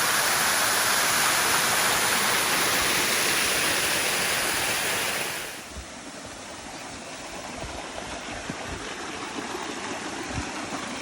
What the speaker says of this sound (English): really nice flow of water